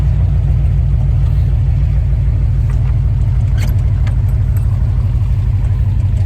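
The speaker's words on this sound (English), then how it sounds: "You get some video of it driving around." A 1932 Chevy hot rod built in the 1960s drives close by, its engine a loud, steady low rumble with a throbbing idle-like beat throughout and no talking.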